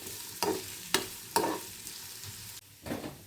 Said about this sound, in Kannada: ಸಣ್ಣ ಉರಿ ಇಟ್ಕೊಂಡು ಈ ಥರ ಎಣ್ಣೆಯಲ್ಲಿ ಫ್ರೈ ಮಾಡಬೇಕು.